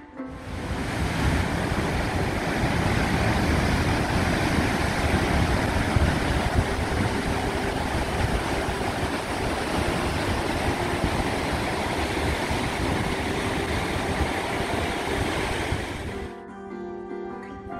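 A 20-metre waterfall beside basalt columns in the Icelandic highlands roars as a steady, dense, full rush of falling water, loud and unbroken, with wind buffeting the microphone before it cuts off at the end.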